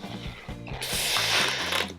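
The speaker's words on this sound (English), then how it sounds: "Get your blue balloons and inflate them pretty much halfway." A blue latex balloon is pumped up halfway with a hand pump, giving rhythmic ratcheting strokes followed by a rising, hissing squeak of stretching rubber, close and fairly loud, with no talking.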